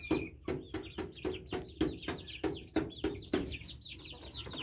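Chickens cluck in a farmyard, including young birds raised from chicks alongside hens and roosters, in a steady run of close, repeated clucks and short calls with no talk.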